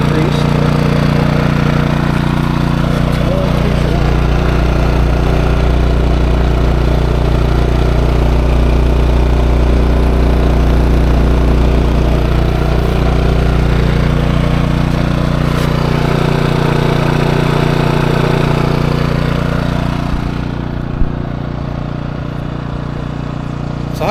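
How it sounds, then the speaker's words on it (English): A Westinghouse iGen2550DFc inverter generator engine runs steadily and loudly up close, with a constant low drone and hum throughout that eases slightly near the end. "It's a running motor, but the side panels are vibrating just a little bit."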